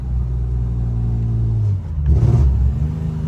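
A BMW M3 engine with a poor exhaust idles with a heavy, uneven rumble, running rough, then briefly surges louder with a rough, lumpy sound.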